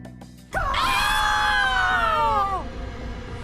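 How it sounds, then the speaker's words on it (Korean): A cinema audience screaming at a late-night showing of the horror film The Conjuring 2, one loud sustained shriek lasting about two seconds, then dropping away. "관객석이 공포의 비명으로 가득 찼던 이유"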